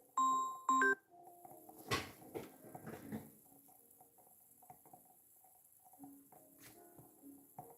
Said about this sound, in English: Sorry for my phone, I forgot to turn off the notification.